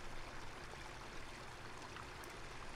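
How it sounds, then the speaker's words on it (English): A small waterfall in the video game Ark Survival Ascended gives a steady, soft rush of falling water that stays faint and even throughout, with no voices over it. "That little nice little waterfall."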